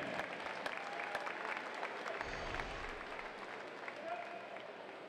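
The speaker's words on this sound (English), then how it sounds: "How about a round of applause for your champion" Audience applause at a swim meet celebrating the winner in lane 4, steady moderate clapping filling the indoor pool venue throughout, faint and somewhat distant.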